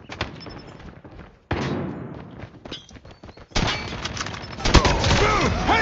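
Gunfire in a first-person shooter video game: dense bursts of shots and thumping impacts build to a loud, sustained volley in the second half, with game voices calling out over the action.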